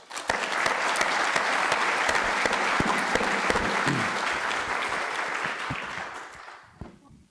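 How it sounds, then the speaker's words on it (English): Sustained applause from an audience at a medical college investiture ceremony honoring Dr. Strong, loud and dense for about six seconds before fading out. "So I ask you to please a hand of applause for Dr. Strong."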